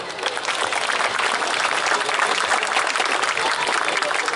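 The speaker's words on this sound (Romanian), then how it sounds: "să-l aplaudă." Audience at a gala event in Fălticeni applauding steadily, a dense, even wash of clapping hands that holds at full strength throughout without pause.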